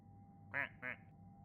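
Two loud, blaring duck quacks in quick succession rise over a faint steady hum inside a video game.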